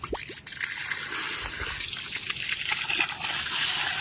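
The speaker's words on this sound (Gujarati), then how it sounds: "ફાઇનલી ડ્રીપમાં જીવમૃતનું પાણી આવવા માંડ્યું છે" Water mixed with liquid fertilizer trickles and gushes steadily through narrow drip irrigation tubing, a continuous close-up flow with faint drips.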